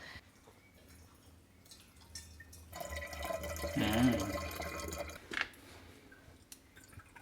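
Elderflower cordial is decanted into empty vodka bottles, liquid pouring and gurgling into glass for a couple of seconds amid quiet handling noises, up close and fairly soft.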